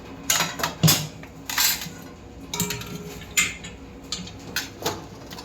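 A metal cooking pot of cooked chicken is handled and set down on a stove, giving a series of sharp metallic clinks and knocks spaced irregularly, close and moderately loud.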